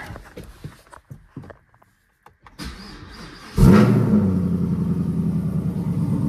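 A supercharged, cammed 416 Camaro SS starts: a few clicks and a short quiet moment, then the engine fires with a loud, close, rough rumble that settles into a steady lopey idle.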